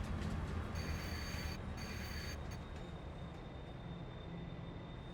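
A freight train runs steadily in Farming Simulator 22, making a continuous low rumble of rolling wagons with faint high whining tones above it, and no talk.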